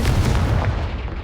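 A Confringo fire spell blast in the Hogwarts Legacy video game, a loud booming burst with a heavy low rumble that stays dense and sustained for about a second, with no speech over it.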